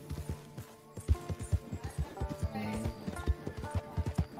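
Horse hooves clip-clop at a steady trot in the Red Dead Online video game, a close, rhythmic run of hoof beats with faint ambient game sound behind them.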